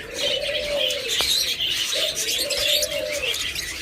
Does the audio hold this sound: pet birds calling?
yes